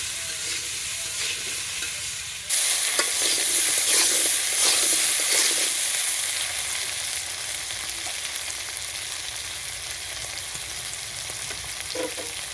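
Potatoes with green chillies and salt stir-frying in hot oil: a loud, steady sizzle and hiss that jumps up suddenly as the food hits the pan, with occasional scraping stirs, close and continuous.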